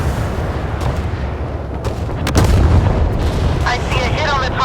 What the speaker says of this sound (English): Missiles launched.